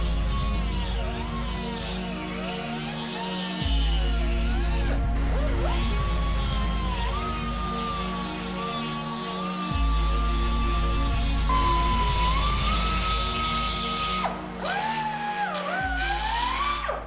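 A power tool whines steadily at close range as it cleans the area around a crack in an oil pan before welding, its pitch shifting between sustained tones with a few brief interruptions.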